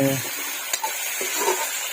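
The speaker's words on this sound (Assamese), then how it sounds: "এইফালে এতিয়া কুকুৰা মাংসখিনি ভাজি থকা হৈছে, জুইতে বনোৱা হৈছে।" Chicken meat frying in a pan over an open fire, giving a continuous sizzle with faint stirring and utensil clicks alongside it.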